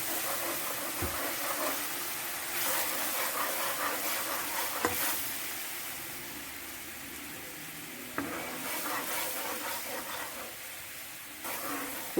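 Water poured into caramelizing sugar in a pan, producing a steady hissing sizzle with steam throughout, punctuated by a few faint clicks and taps of utensils.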